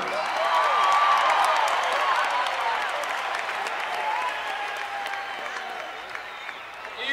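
A concert audience at a 1988 live show in New York applauds a band member's introduction, loud sustained clapping from a large crowd that slowly thins and fades over several seconds.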